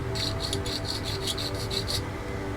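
Scale plastic model kit part for a 1/48 F-4D being filed smooth, a quick rhythmic rasping of about a dozen close back-and-forth strokes, then it stops.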